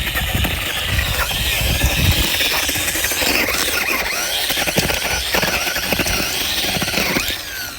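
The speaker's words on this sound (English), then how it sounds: "This is my personal favorite, which is the grinder, which really does the trick." A grinder works across a flat roof under repair, clearing loose debris and dust in a loud, continuous rough whir with rattling mechanical texture throughout.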